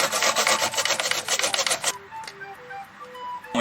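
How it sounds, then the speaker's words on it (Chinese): Fresh ginger rubbed against a grater into a paste, a dense rasping scrape for about two seconds that stops abruptly, leaving a quiet room with faint tonal sounds. "所以我们就先把姜磨成泥"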